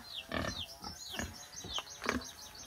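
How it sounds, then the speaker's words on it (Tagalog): Pigs on a farm grunting and squealing in a quick series of close, loud calls, several overlapping across a few seconds, with no talk. "Pare-pares lang yung mga baboy dito"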